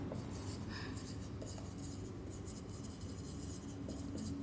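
Chalk or marker scratching across a board while a quadratic equation is worked out, steady scratchy strokes in short bursts, with a voice talking faintly underneath.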